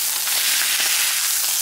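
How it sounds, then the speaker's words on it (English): Beef roast searing in a hot pan for a crockpot pot roast, giving a steady, loud hissing sizzle that fills the whole moment without pause. "So you can hear this loud and sizzling here."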